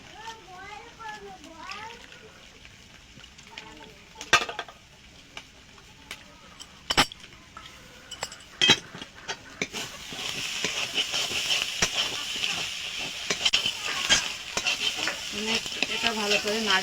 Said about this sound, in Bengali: এটা ভালো করে নাড়িয়ে নেব।